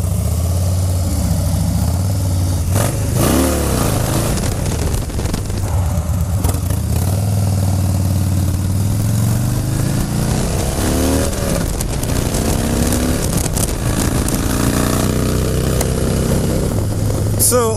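A 2017 Harley-Davidson Dyna Street Bob V-twin engine running loud and close, with a steady low idle rumble broken by several throttle blips that rise and fall in pitch.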